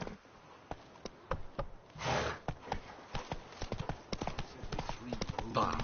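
Hooves of the horse Roach clip-clopping at a steady rhythm in the video game Witcher 3, with bright percussive hits over continuous background ambience and a short louder swell partway through.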